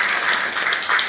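An audience at the opening session of a multi-media art exhibition claps briefly, a short burst of scattered applause at moderate loudness.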